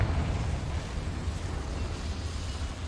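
A fire spell from Hogwarts Legacy, Confringo, erupts in a mine as a dense, roaring burst of rumbling noise that fills the scene steadily and loudly throughout.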